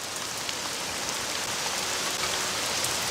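Steady rain pours down in the Caesar IV city-building game, a dense, even hiss with faint scattered droplet ticks and no other sounds on top.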